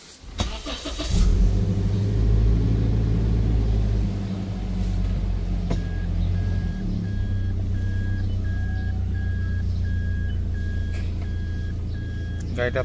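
A 2018 Toyota Land Cruiser Prado TX with a 2700 cc engine cranks and starts, then settles into a low steady idle with a repeating electronic chime, close up.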